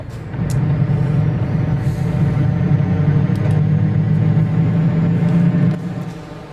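Steady, loud engine rumble of a truck in Euro Truck Simulator 2, droning evenly for several seconds before easing off, with no talking over it.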